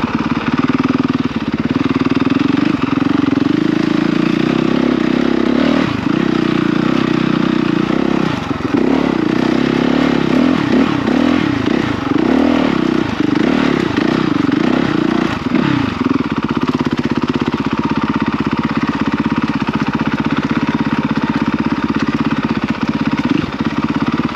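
A Honda CRF 450 dirt bike climbing a hill at Montgueux, its engine revving and surging through repeated throttle bursts while nearby, then settling into a steadier drone as the bike moves off.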